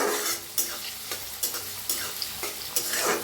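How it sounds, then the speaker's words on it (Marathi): Chopped onion fries in oil in a pan under a constant bright sizzle, with regular scraping strokes from stirring roughly every half second, close and loud. "आता कांदा कापलेला भाजून घेऊया, याला बी हलवून घ्या"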